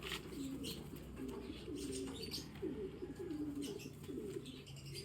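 Racing pigeons arriving at the loft at the end of a 107 km fun race, with soft, repeated cooing and a few chirps heard fairly close over quiet background noise.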